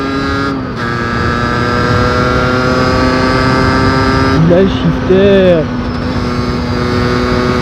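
A loud Beta 50RR motorcycle engine holds a steady drone, and its pitch drops sharply once in a quick quickshifter upshift. Voices talk briefly over the engine.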